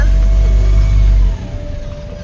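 A parked Eicher truck's engine revs in a loud, deep rumble held close for over a second, then drops suddenly to a lower, steadier idle.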